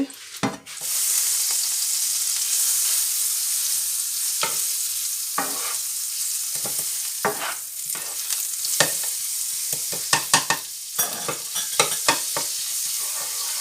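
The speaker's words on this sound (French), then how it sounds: "Première étape, faire fondre le beurre" Butter melts and sizzles in a pan as the base of a sauce for sausages, a steady close hiss running throughout with scattered sharp clicks of a utensil stirring against the pan.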